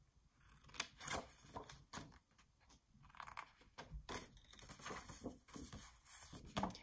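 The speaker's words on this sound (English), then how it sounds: "So we're just going to snip this and this." Scissors snip through a paper coin envelope up close: a series of short, crisp cuts at an irregular pace with quiet pauses between them, and the sound of paper being handled.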